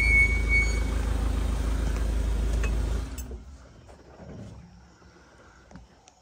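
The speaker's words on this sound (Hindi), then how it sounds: "देखो तो जो साउंड आ रहे हैं वो लेपर्ड" A leopard calls in the jungle: a loud, rough, low rasping sound for about three seconds, then it cuts off, leaving quiet forest ambience with faint scattered noises.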